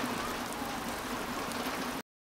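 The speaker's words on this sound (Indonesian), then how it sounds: "Hujan pun turun" Rain pours onto the open sea, a dense, even hiss of drops that holds steady for about two seconds and then cuts off abruptly.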